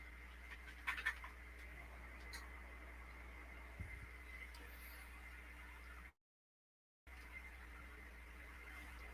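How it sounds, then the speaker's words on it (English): A dog acts silly somewhere in a room, giving faint squeals, whines and a few short yelps in the background over a low steady hum, with a brief dropout partway through. "that's my dog over here"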